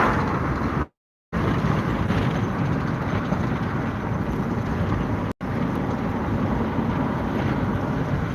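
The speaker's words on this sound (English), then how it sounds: "Wind's coming out of the north pretty stiff" Stiff north wind roaring steadily across the microphone outdoors near piles of coal, loud and continuous with two brief dropouts.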